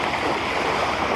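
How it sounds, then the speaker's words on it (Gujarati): Floodwater from heavy rain rushes through the Somnath housing society, deep enough to submerge bikes and scooters, a loud, steady broadband roar close by with no voices over it. "ભાઈ સોમનાથ સોસાયટી એટલે ખાલી પાણી જાય જુઓ તમે"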